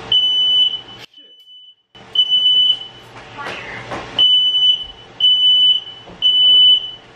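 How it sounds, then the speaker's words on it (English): A smoke alarm, set off by a frozen pizza burning in a toaster, beeps shrilly in repeated bursts, loud and close, with brief pauses and some rustling and clatter between the chirps. "It triggered the smoke alarm and it's burned."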